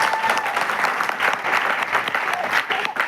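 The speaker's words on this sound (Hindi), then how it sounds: "जोर से तालियां मारो आप लोग।" A crowd claps loudly and continuously, the busy rattle of many hands holding strong with small swells, with a voice faintly in the mix.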